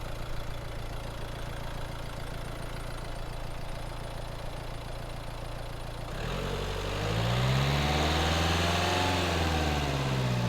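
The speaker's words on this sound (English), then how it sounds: "So will you rev it, Roddy?" A 2016 Renault Kadjar 1.5 dCi diesel with flat performance idles steadily for about six seconds, then is revved, the engine note rising and falling in a clear sweep, loud and close with no talking.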